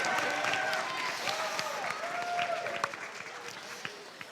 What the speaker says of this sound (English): So let's applaud Mr. Hill.